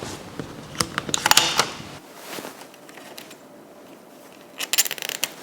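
A hole punch presses through grow film, giving a cluster of sharp clicking and crunching snaps, then a quiet pause and another quick burst of close mechanical clicks.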